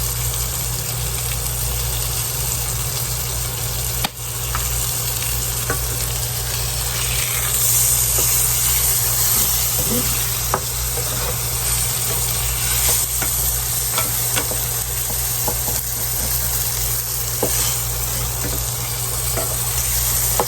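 Garlic butter steak sizzles steadily in a frying pan on a hot plate, a loud continuous hiss and crackle lasting throughout with an occasional scrape and no talking.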